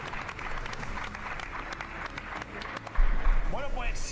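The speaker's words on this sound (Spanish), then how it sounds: "Ahora sí, un aplauso, va." A crowd at a fighters' weigh-in event claps and cheers in a continuous wash of applause, with voices talking and shouting over it and the noise swelling louder near the end.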